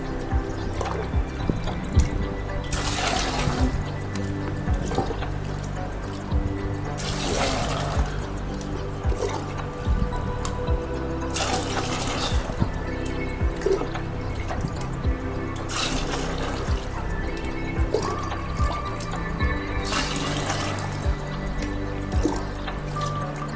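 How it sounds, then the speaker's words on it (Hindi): Water is poured by the mugful into a container, giving a steady splashing, trickling flow that lasts throughout with periodic louder surges as each mug is emptied. "अब ये जो पानी है इस पानी को हम इसमें 8 मग लेंगे।"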